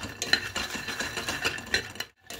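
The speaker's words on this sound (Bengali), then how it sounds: "এটাকে একটু হালকা করে শুকনো খোলায় ভেজে নেব" Raw peanuts are dry-roasted in a pan, their shells rattling and scraping against the metal in quick repeated clatters as they are stirred, loud and close, with no talking.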